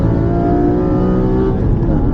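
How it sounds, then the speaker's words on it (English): A Guards red Porsche GT3 RS race car with a roughly 500-horsepower engine accelerating past on track, a loud sustained high-revving engine roar heard from inside another car, steady and close throughout. "I'm going to let this GT3 RS past us here."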